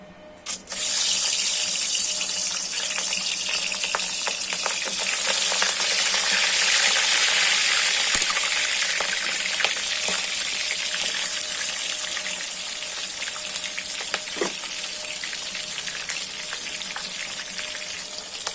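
Fish heads frying in hot oil in a home kitchen, a steady close sizzling hiss that holds evenly throughout with occasional small pops, no voices.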